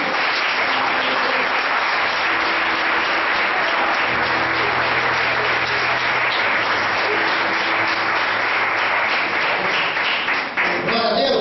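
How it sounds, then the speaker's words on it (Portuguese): Sustained applause from a church congregation during a worship service, a steady dense wash of clapping filling the room throughout, with voices faintly mixed in beneath it. "Você pode dar uma salva de palmas para Jesus?"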